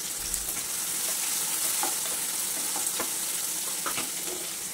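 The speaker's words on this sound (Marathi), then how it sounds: "शेंगदाणे घालायचे म्हणजे लवकर भाजतील" Peanuts and tomato with cloves frying in hot oil for a vegetable upma, a steady close sizzle with a few soft stirring scrapes and no talk.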